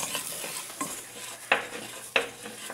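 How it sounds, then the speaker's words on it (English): Onions and spices frying in a pan while being stirred, a gentle continuous sizzle broken by a few scraping spoon strokes, two of them sharp and distinct, close up with no speech. "stir this continuously for a couple of minutes till the onions get soft"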